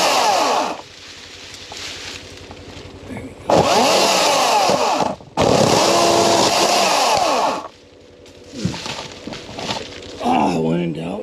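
A Greenworks electric saw runs in loud, sustained cutting bursts from a deer blind, starting and stopping several times, with brief quieter pauses between cuts.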